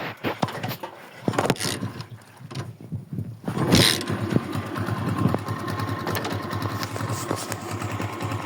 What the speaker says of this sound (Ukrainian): Так робить мотор, так вихлопна робить.